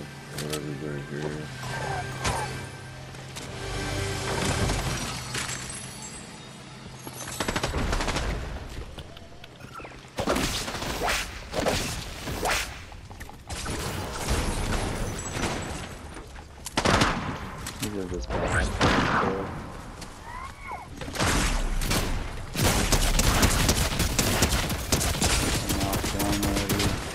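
Rapid automatic turret gunfire in the Fortnite video game, repeated bursts and heavy crackling shots along with explosions and game effects throughout, dense and loud in long stretches.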